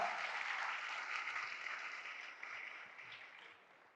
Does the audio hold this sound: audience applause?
yes